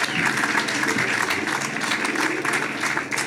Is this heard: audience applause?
yes